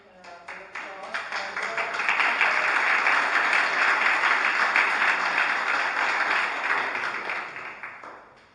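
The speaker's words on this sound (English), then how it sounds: "I think we can have the applause." Conference audience at a Brussels concertation event breaks into applause that swells quickly, holds full and steady for several seconds, then fades out at the end.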